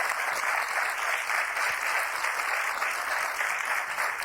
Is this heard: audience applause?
yes